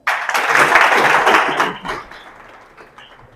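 Applause from a classroom of students for a classmate's test score, a dense burst of clapping that starts loud and then thins out and fades over about three seconds.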